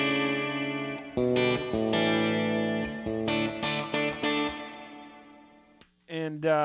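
Electric guitar through a reverb pedal switched to its second, larger reverb setting, a series of chords and notes with washy lingering tails, pausing briefly before a final strum.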